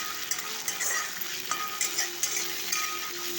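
Curry leaves and green chillies fry in hot oil, giving a steady close sizzle with faint stirring clicks over it and no voices.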